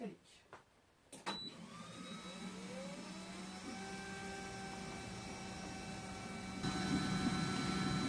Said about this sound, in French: Et voilà le gravé contour qui se fait.